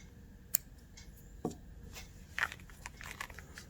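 Scissors snip off crochet yarn on a small amigurumi fish, a few sharp close clicks and cuts spaced out over a quiet room.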